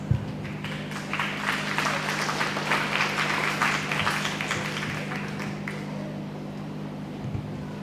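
An audience applauds a Little Miss contestant at the Fayette County Free Fair queen pageant, dense clapping swelling then gradually thinning out, over a steady low hum from the venue.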